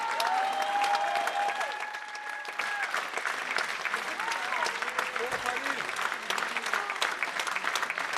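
An audience in Paris applauds a ballet performance, dense sustained clapping throughout, loud and close, with a faint musical tone early on.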